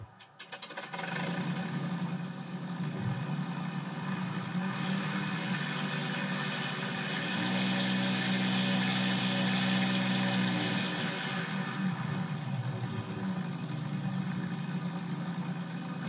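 An ESS-AIR engine sound system for RC models plays a synthetic engine sound through its speaker, a start-up followed by a steady buzzy idle that swells louder in the middle and then settles.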